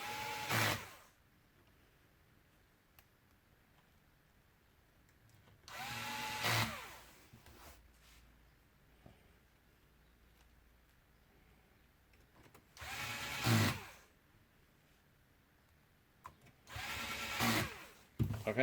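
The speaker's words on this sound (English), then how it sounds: "I'm going to put the 4 screws very quickly now." A power screwdriver drives the four screws holding a Lexus touch screen, four separate whirring bursts spaced by quiet gaps, close and fairly faint.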